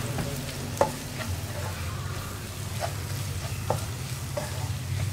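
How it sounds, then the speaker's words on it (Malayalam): Kashmiri chili powder and coriander powder are stirred into beef roast in a pan, a low frying sizzle running steadily under soft scraping strokes and a few light utensil knocks. "ഇത്രയും ചേർത്ത് നന്നായിട്ടൊന്ന് ഇളക്കി മിക്സ് ചെയ്തെടുക്കുക."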